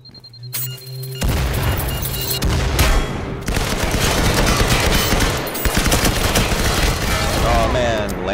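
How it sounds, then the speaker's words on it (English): Firewall Zero Hour match with a thrown grenade detonating and sustained rapid gunfire, loud and dense from start to finish, with an initial quieter lead-in before the heavy barrage. "Throwing a grenade out."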